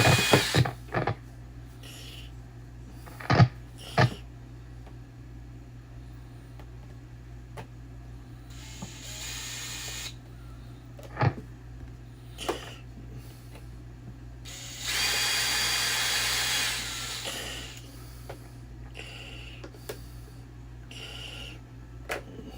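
A power drill drives screws into a guitar body in several short, sharp whirring bursts separated by quiet gaps, with one longer, louder burst near the end, all up close.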